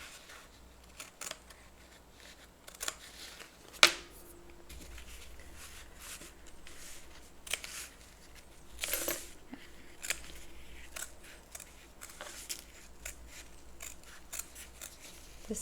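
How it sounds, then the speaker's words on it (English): Scissors snipping through the fabric lining of a crossbody bag, a series of quiet, irregular cuts with a few sharper clicks spread across a fairly hushed background. "now we're going to cut out the center of the lining, being uber careful"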